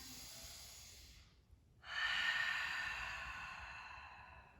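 A long, audible exhale through the nose during yoga breathing, a soft airy hiss that fades, pauses briefly, then swells into a stronger sustained breath out in a quiet room.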